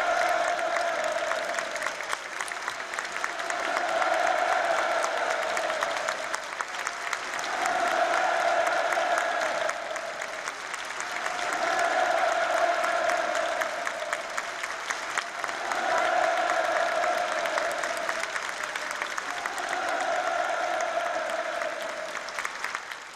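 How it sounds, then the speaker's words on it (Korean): Applause and rhythmic cheers from a theatre audience after a ballet performance, with sustained clapping and chanted shouts rising and falling in regular waves throughout. "동지를 우러러 폭풍 같은 만세 환호성을 터치 올렸습니다"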